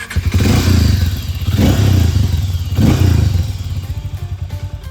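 Harley-Davidson X440 motorcycle engine running close and loud, a deep throbbing rumble that swells in repeated rev surges before easing to a steadier idle.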